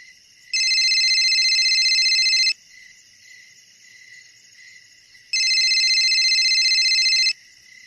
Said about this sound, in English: Who the hell is calling this late at night?